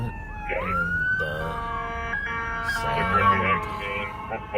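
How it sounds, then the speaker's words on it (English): Police sirens wail close behind a patrol vehicle in Riverside County, their pitch sweeping up and rising as the vehicles draw near, layered tones building over a steady road rumble, with no talk during the sound. "I hear sirens coming behind us."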